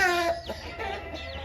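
A plain kaki rooster about sixteen months old gives one short, close, throaty clucking call that fades quickly.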